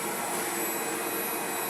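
An electric blower motor runs on a single-phase setup after a breaker replacement, producing a steady, even whirring hum with airy rush, constant and unbroken at moderate level.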